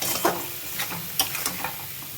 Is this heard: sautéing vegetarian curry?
yes